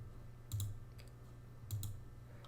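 A computer mouse is right-clicked while setting up a trifold brochure in InDesign, producing faint, close clicks in two small clusters over quiet room noise.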